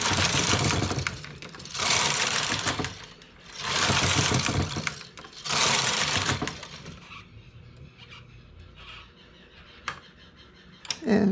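Knitting machine working a fishnet-stitch scarf: the carriage sweeps back and forth in loud, rasping whooshes of about a second each, four passes in a row, then quieter clicks and handling noises.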